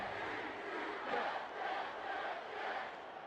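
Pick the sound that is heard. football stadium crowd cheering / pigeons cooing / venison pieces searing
football stadium crowd cheering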